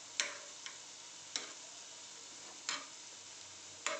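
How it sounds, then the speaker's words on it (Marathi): Aloo tikki shallow fry in a pan with a faint, steady sizzle, broken by four sharp clinks spaced roughly evenly apart. "बघताय आपण आपल्या टिक्कीज मस्तपैकी शॅलो फ्राय होत आहेत"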